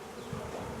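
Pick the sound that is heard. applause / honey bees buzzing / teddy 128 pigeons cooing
honey bees buzzing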